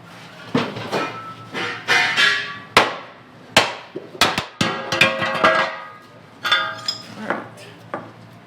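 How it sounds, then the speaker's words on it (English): Metal hammer blows ring out in an irregular series as parts are hammered out of a 6x6 spud truck, sharp clanks with short pauses between them, close by with clattery metallic rattles. "I think this will hammer out pretty easy."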